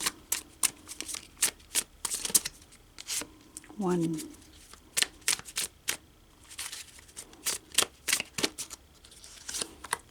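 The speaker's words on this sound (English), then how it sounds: "let's shuffle the cards" Tarot cards being shuffled by hand in repeated quick riffling bursts, close and crisp, with a brief spoken word partway through.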